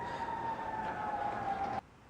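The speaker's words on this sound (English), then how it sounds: "There's a lot of sirens going on." Emergency vehicle sirens wail in a steady sustained tone at moderate distance outdoors, carrying on for most of the moment before cutting off abruptly near the end, with no talking.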